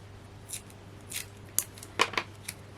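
Scissors cutting a circle out of craft paper or card, making soft, close snips in a short irregular sequence with a few sharper crisp clicks.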